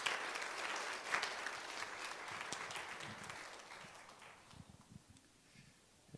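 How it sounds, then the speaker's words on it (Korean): A church congregation claps steadily at a Friday worship service, a dense patter of applause that gradually thins and fades toward the end. "박수로 환영해 주시기 바랍니다"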